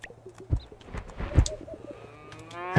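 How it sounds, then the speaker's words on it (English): A cow lows in Moonlight Peaks, a short mooing call rising near the end of a brief quiet farm ambience with soft clicks and a faint hum. "Happy cow"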